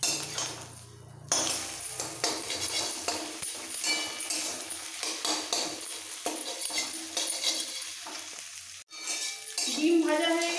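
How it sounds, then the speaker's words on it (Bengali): Three eggs seasoned with salt and pepper frying and being stirred in a kadai, a steady close sizzle with scraping spatula strokes and light clinks against the metal, with a brief break near the end. "ডিম ভাজা হয়ে গেছে, একটু নাড়াচাড়া করে তুলে নিতে হবে ভাজা ডিমগুলো।"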